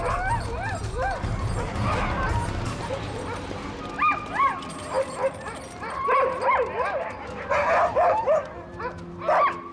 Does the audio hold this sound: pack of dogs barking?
yes